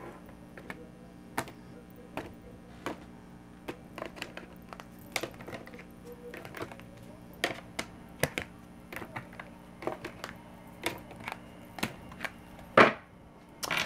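Tarot cards being cut and handled, a long run of light irregular taps and clicks ending in one louder riffling shuffle near the end, close up and with no speech.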